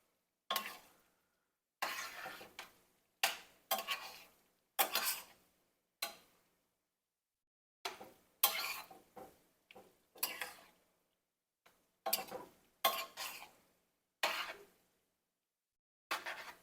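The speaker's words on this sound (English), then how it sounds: "Give this a stir." A spoon stirs hot broth and milk in a pot, scraping and clinking against the sides in irregular quick strokes separated by short pauses, close and quiet with no talking.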